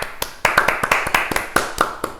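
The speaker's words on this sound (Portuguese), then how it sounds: "Palmas." A small group clapping at the end of a podcast interview, a short run of distinct, uneven hand claps close to the microphone with no talk over them.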